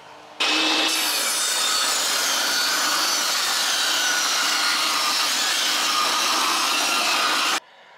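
A saw rips steadily through a wooden window-trim board, thinning it to about half an inch, for about seven seconds, a continuous loud rasping grind with no talking, stopping abruptly at the end.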